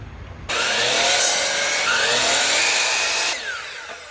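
A power saw rips through a cedar board for an outdoor window box, a loud steady whining cut lasting about three seconds that starts abruptly and tapers off at the end.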